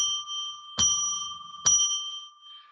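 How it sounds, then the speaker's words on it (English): A bell struck twice, about a second apart, each ring sharp and bright then sustaining a clear metallic tone, rung to open a sacred space during a tarot reading session. "Then we're going to ring a bell to declare a sacred space."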